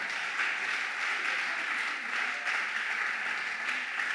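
A congregation applauds to acclaim the Lord, producing a dense, steady wash of clapping that holds at an even level throughout with no voices standing out.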